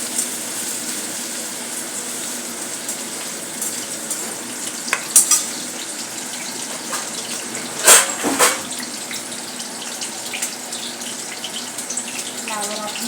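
Cauliflower frying in hot oil for a restaurant-style kurma bhaji, a steady close sizzle and bubbling with occasional stirring clinks and scrapes.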